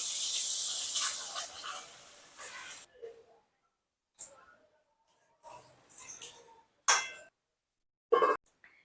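Water poured into a pan of jackfruit and potato masala that has been fried with spices sets off a loud hissing sizzle at first, then comes in short bursts of sputtering steam with quiet gaps between them.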